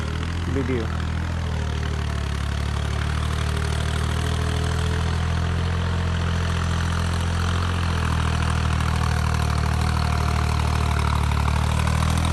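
A power tiller engine runs steadily in an open field, a loud continuous low mechanical drone with no breaks throughout.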